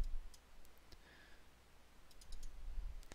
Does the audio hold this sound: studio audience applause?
no